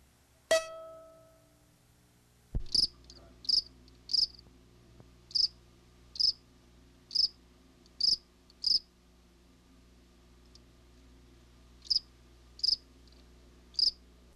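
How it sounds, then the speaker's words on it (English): Crickets chirp at night, with snowy tree crickets and field crickets singing together. A sharp tone opens the clip, then about a dozen crisp, evenly spaced chirps follow, close and clear, each separated by quiet gaps, over a low steady hum. "The high-pitched singing is the snowy tree cricket. The other is the more common field cricket."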